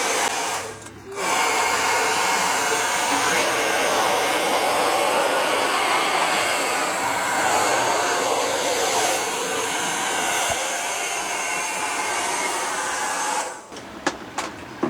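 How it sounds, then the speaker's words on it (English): A hair blow dryer blasts dust out of a plotter machine, giving a loud, steady whooshing hum that runs continuously for about twelve seconds before switching off, with brief clicks and handling noises at each end. "I use the blow dry because this is what I have and it just serves me efficiently like the normal blower"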